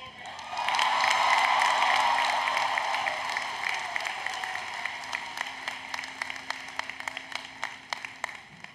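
Graduates at the University of Maryland 2024 commencement cheer and clap, a swell of voices and applause that rises quickly, then settles into scattered, sharper claps that fade out over several seconds.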